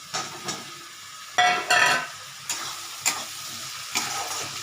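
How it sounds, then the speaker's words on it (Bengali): Fried potato pieces are stirred into a sizzling spice paste in a pan while making a spicy aar fish curry. A steady fry hiss sits under a handful of sharp spatula scrapes spaced irregularly. "এখন আমি মশলাটার মধ্যে এই আলু ভাজাগুলো ছেড়ে দিচ্ছি"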